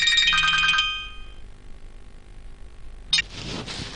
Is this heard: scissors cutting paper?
no